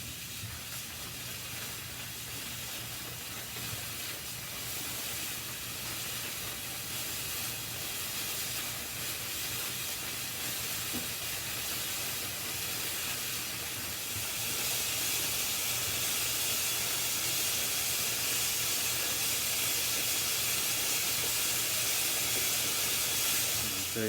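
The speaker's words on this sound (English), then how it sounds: "we're going to have a nice little circulation of steam kind of in and out, helping the glue joint." Steam hisses steadily into the neck joint of a Martin 000 acoustic guitar during a neck reset, a continuous broadband hiss over a low hum that grows louder and brighter partway through, with no talking.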